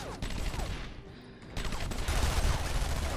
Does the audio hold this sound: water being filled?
no